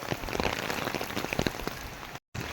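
Steady rain pattering loudly on a surface close by, a dense continuous hiss of drops with scattered heavier splats and a momentary cutout near the end.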